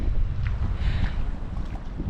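Strong, cold wind on a lake at South Hegman in the Boundary Waters buffeting the microphone, a loud continuous low roar with gusty rumbles throughout.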